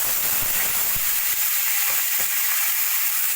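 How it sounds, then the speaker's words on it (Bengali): Broccoli fries in hot oil in a wok, a loud, steady, close hiss and sizzle that runs unbroken throughout, with no voices. "কড়াইতে তেল গরম করে দিয়ে দেবো আমি ব্রোকলিগুলো"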